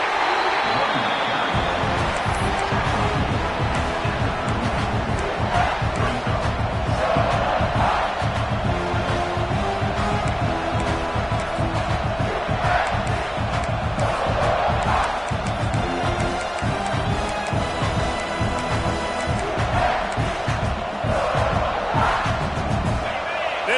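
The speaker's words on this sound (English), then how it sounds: "Crowd trying to make life miserable for this offense." Dense, constant stadium crowd roar from the NCAA 26 college football video game, loud and unbroken throughout with swelling cheers, plus game commentary voices running over it.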